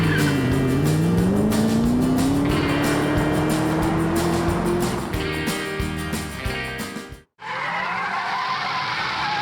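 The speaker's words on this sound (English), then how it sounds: "the roar of Last Chance heroes in their V8 muscle cars racing between the lights" A V8 Ford Mustang muscle car roars up close with a rising engine note and screeching, squealing tires, the sound dropping off briefly before another loud engine burst returns.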